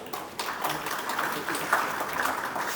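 Audience applause at an annual report launch, a brief burst of clapping from a crowd in a hall, moderately loud and steady.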